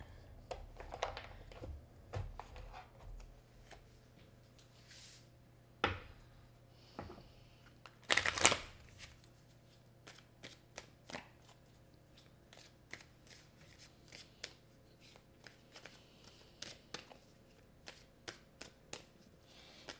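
Mystic Moon oracle cards are shuffled by hand in a dim room, a soft intermittent riffling and patting with a louder burst of card flicks partway through, close and quiet with no talking.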